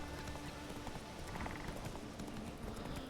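Fast hoofbeats of a galloping horse in Witcher 3 run continuously under dense game ambience, a busy rhythmic thudding that stays even and fairly loud throughout the short stretch, with no voices.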